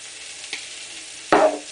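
A ribeye steak lands in a hot pan and bursts into a loud sizzle late on, after a faint earlier clatter, with the frying hiss fading slightly toward the end.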